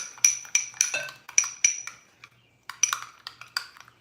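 A teaspoon clinks and scrapes briskly against a dish while stirring mustard into seasoned mayonnaise, a quick run of close metallic taps, a brief pause, then more rapid clinking.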